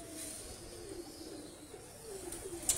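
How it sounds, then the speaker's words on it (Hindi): A Teddy pigeon gives soft, faint cooing with a few brief calls near the end, against quiet background hiss. "ये टैडी कबूतर है दोस्तों"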